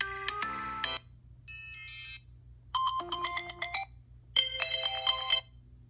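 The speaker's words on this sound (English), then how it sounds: "if you want to have a different ringtone for your alarm, you're going to click this" The iPhone default alarm ringtone, a bright electronic melody, plays in four separate bursts with short silent gaps between them, clear and close.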